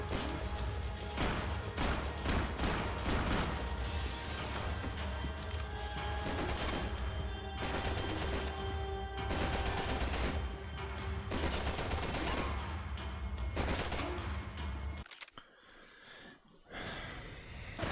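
Dense, sustained gunfire fills a Max Payne 3 video game firefight, rapid bursts and single shots piling up with booming impacts, loud and continuous before cutting to a quieter stretch near the end.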